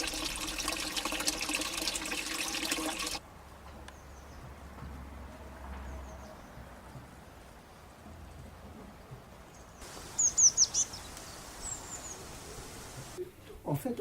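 A stream flowing among trees beside a still pond in a garden, heard as a steady soft wash of water throughout, with a brief louder stretch at the start and bird calls chirping near the end.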